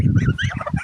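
A goose near a village canal by the Sundarbans gives a short, loud, close honking call in a few quick pulses.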